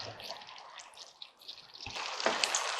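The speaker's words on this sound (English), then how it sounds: "usually you have to use 2 to 3, maybe 4 ladles of broth, and we just keep stirring it." Risotto stirred in a pan with ladles of broth, soft wet sloshing and scraping that swells slightly toward the end, close but fairly quiet, with no talking.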